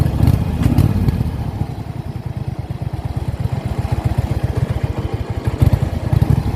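Small engine of a home-built racing lawn mower in neutral, given a little gas; a close, loud, rough pulsing rumble that swells at the start and again near the end, with no talk.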